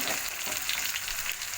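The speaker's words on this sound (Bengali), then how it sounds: "পেঁয়াজটা আমার ভাজা হচ্ছে।" Onion frying in a pan for a village-style egg curry, giving a continuous even sizzle up close with no talking.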